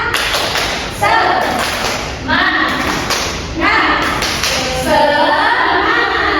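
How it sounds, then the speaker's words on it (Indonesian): Elementary classroom claps out a rhythmic cheer pattern in loud, grouped bursts of hand claps, with children's chanting voices mixed in between the beats. "Lebih keras lagi ya. Tepuk semangat."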